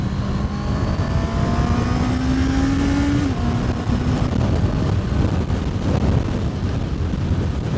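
A Honda CBR650R with E-Clutch at riding speed: a steady engine drone under heavy wind rush, with the engine tone rising and then a gear change partway through.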